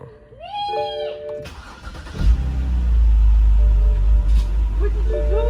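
A BMW with a cylinder misfire cranking and starting, then idling rough with a loud, uneven low rumble, close by; a cat meows early on and people talk over it.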